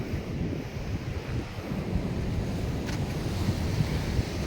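Surf washes in at Jayanti beach on the south coast of West Java while strong wind buffets the microphone, giving a loud, steady roar with no one talking.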